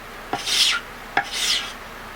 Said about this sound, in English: You just go through and scrape till it's flush.